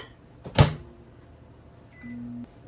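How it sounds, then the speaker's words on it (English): A microwave oven heats a bowl of oatmeal: a sharp click or clunk of the door or button, then a brief low electric hum as the oven starts running. "Pop this in the microwave."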